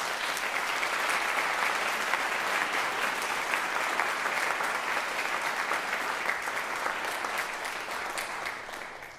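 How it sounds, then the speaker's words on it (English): Applause for graduating Air Force ROTC cadets fills a hall, a dense, sustained clapping from a large audience that stays strong for about eight seconds before tapering off at the end. "Let's give them another round of applause."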